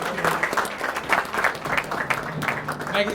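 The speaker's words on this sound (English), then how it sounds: "Another applause for our great Senator Barbara Latalian." Audience applause at a dedication ceremony honoring a senator, steady clapping from a crowd lasting the full few seconds at moderate level with no talk over it.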